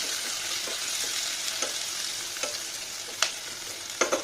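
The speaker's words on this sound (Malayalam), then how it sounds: "പിന്നെ ഇതിലേക്ക് ഞാൻ അരിഞ്ഞു വെച്ചിട്ടുള്ള ക്യാപ്സിക്കം കൂടി ചേർത്തിട്ടുണ്ട്. നന്നായിട്ടൊന്ന് വഴറ്റിയെടുക്കണേ." Chopped capsicum sautés in a pan for chicken kadai under a constant bright sizzle, with occasional spoon taps and scrapes rising above the frying.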